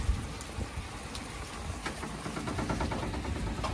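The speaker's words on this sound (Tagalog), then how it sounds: "Maraming ulan, oh." Heavy rain pattering on surfaces during a windy, stormy day, a dense steady wash with scattered sharper drops, moderately distant and fairly quiet.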